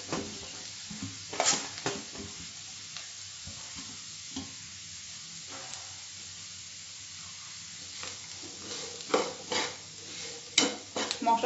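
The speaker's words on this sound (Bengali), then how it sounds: "মশলার সঙ্গে এবং তেলের সঙ্গে ভালো করে মিশিয়ে দিচ্ছি মাশরুমগুলো।" Sliced mushrooms fry in oil with spices at a low, steady sizzle. A utensil stirs them with bursts of scraping and clinking against the pan, spaced unevenly and louder toward the end.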